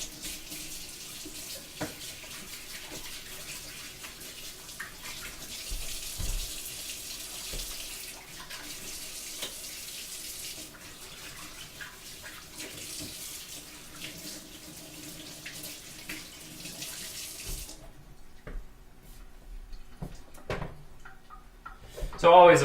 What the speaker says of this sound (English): I'm going to wash my hands very quickly